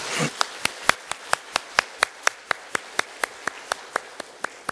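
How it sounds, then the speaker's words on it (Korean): Church congregation clapping for the choir and instrumental ensemble at a Sunday service, sharp claps landing together in an even, brisk beat of about four per second, loud and close, with no voices. "우리 격려의 박수 같이 한번 드리실까요?"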